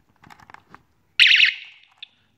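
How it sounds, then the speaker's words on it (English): A few soft clicks and taps as a lock alarm is armed, then a loud, piercing warbling electronic wail lasting about a third of a second, followed by one short final beep. "and the alarm will sound."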